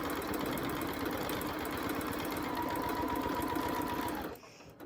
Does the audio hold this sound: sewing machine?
yes